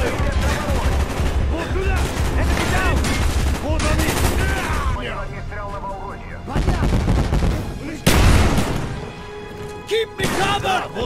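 Minigun fire and other gunshots in a Call of Duty Black Ops campaign battle, loud and dense, with rapid bursts, crashes and thuds throughout as a voice shouts over the din.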